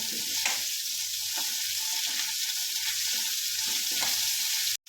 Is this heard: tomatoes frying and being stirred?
yes